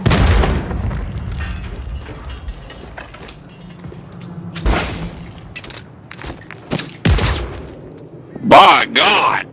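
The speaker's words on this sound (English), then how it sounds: "Shotgun." Shotgun blasts in a Call of Duty Gun Game match, several loud sharp booms spaced irregularly under game noise, with a person talking excitedly over the action.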